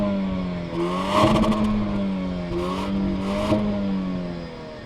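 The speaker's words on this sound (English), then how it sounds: "Now, you do have these dual centered exhausts right here, well, towards the center exhaust. It sounds pretty okay" A 2020 Jaguar XE P300 with dual centre-mounted exhaust outlets idles steadily with a low hum, then gets two or three quick revs that swell and fall back, heard up close with no talking.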